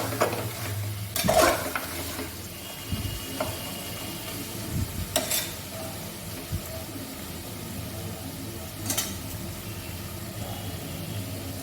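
Spice paste for a mutton curry is fried and stirred in a pan. A steady low sizzle runs underneath a handful of scraping strokes and clinks from a spoon against the pan.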